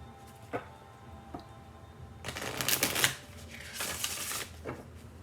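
A deck of cards is shuffled for a tarot-style reading. A few soft taps come first, then a brisk riffling burst and a couple of quieter card flicks, close and clear with no talking.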